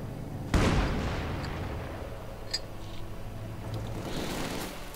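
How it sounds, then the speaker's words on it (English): Light mortar fired from a half-track in Company of Heroes 2: one sharp, heavy launch thump followed by a long fading rumble, with scattered faint clicks and distant battle noise behind it. "It's a mortar!"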